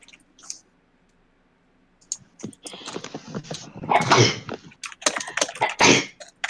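A short, sharp sneeze bursts out among clicks, rustles and breathy noises, followed by more scattered clicks and movement sounds close by.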